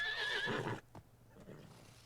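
A horse in a video game lets out a loud, bright whinny for about three-quarters of a second, followed by softer snorts and quiet background noise.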